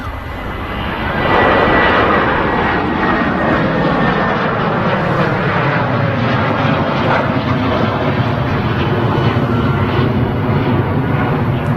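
A Boeing 737 at Manchester Airport climbs out on a test flight with a loud, sustained roar of its engines rising in and holding steady, a broad rushing drone with slowly shifting tones.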